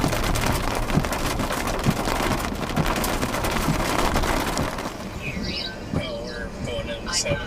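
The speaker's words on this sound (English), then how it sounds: "But now the rain is coming in. More rain." Steady rain falls during a stormy spell, a dense continuous hiss that fades toward the end as a few higher sounds come through.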